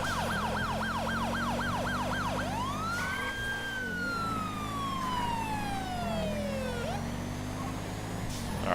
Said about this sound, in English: an emergency vehicle is behind them with their lights and sirens on